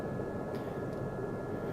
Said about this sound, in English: we just moved through translational lift, and the helicopter's climbing now